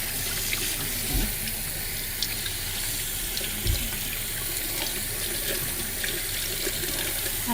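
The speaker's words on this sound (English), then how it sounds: "So just wash the yam with water," Water runs steadily from a kitchen tap while a yam is washed under it, a continuous close splashing hiss with occasional louder splashes and no talking.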